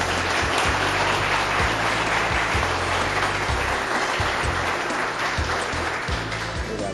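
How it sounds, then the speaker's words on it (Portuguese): Lecture audience giving a round of applause after a talk on the Middle East conflict, loud, dense clapping that stays steady and continuous from start to finish. "Uma salva de palmas."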